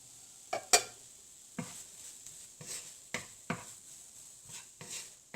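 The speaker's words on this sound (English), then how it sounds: "Mix this well with the spices." Boiled soya granules are stirred and mixed with spices in a bowl, giving soft scraping and tapping. The spoon knocks come in a loose rhythm, close but quiet, over a faint background hiss.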